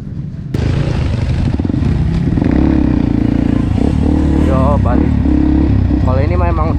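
A stock-engine motorcycle grinds up a steep off-road hill climb in the Cikalong Wetan hills near Bandung, its engine droning loud and close with clattering, while people talk and shout over it.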